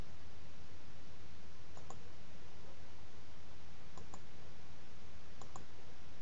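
Mouse clicks on settings and profile tabs of camera scheduling software, three pairs of faint sharp clicks spaced about two seconds apart over a steady background hiss, no talking.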